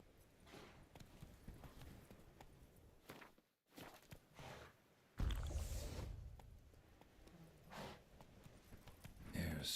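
Horse hooves clip-clopping in The Witcher 3, a run of close rhythmic hoof falls on the ground with a short gap midway, then the steps come back louder and heavier alongside faint breathy sounds.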